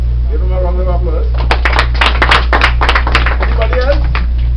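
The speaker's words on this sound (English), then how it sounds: "Give him a round of applause." A small crowd at a St. Helena library emancipation address gives a boy a round of applause: scattered, uneven claps begin after a brief bit of talk and continue under murmuring voices, over a steady electrical hum.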